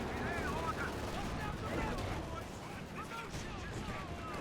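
Anti-tank guns fire in Company of Heroes 2, with booming shots and battle rumble mixed under a commentator's voice.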